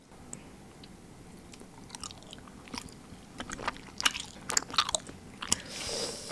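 Close, quiet chewing of shark-shaped gummy jelly: soft, irregular squishes and sticky bites that grow louder and more frequent toward the end, with no talk.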